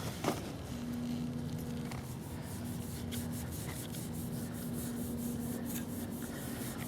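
A cotton ball rubs surface rust off etched gun metal after FrogLube treatment, giving a soft, steady scrubbing texture throughout with a faint tonal hum underneath and no talking.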